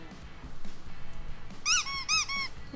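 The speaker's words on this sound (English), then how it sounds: "I did that so I could add squeaky toy noises." A squeaky toy squeezed about three times in quick succession, bright, high-pitched squeaks over a low background hum.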